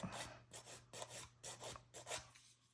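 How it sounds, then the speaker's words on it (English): Rhythmic, close, quiet rasping as the rough side of a nail file is stroked back and forth over a fingernail bed, about seven short strokes in steady succession. "roughen up the nail bed a little bit more. So I'm using like the rough side of a nail file"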